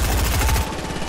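Rapid gunfire in a video game, a dense burst of repeated shots that fills most of the moment and then thins out, loud and close with no talk over it.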